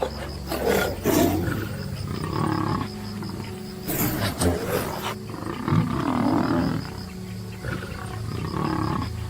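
Lion roaring in the wild, a series of deep, loud roars and grunts repeating across the stretch with brief pauses, close and powerful.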